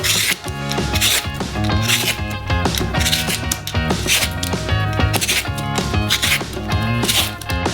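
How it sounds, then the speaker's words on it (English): Orange zest peeled with a vegetable peeler: a dense, continuous run of rapid scraping and rasping strokes, loud and close, with a rhythmic rubbing texture throughout. "remove the thinnest top layer of zest with a vegetable peeler"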